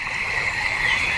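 Croaking of a common frog, a steady continuous stretch at moderate loudness with no talk over it, in a cartoon nature class setting.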